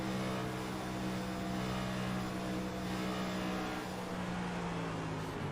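An on-board race car engine in a stock car racing game, a steady, loud, droning high-revving whine held throughout with a slight dip in pitch midway, heard alone without talk.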